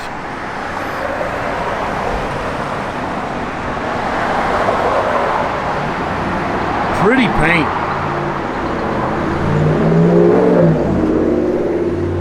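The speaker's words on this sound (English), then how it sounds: "good sounding Flowmaster dual exhaust system on it" A 1967 Chevrolet Chevelle SS with a matching-numbers 396 engine and Flowmaster dual exhaust gives a steady, close rumble that swells with revs, while someone talks over it.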